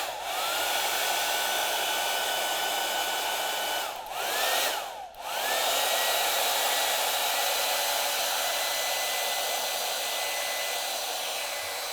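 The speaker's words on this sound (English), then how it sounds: "I'm gonna hit this with a blow dryer to go to the next stage." A blow dryer runs steadily to dry paint on an artwork, a loud continuous whir with a brief dip and pitch wobble midway as it is moved or toggled, then resumes evenly.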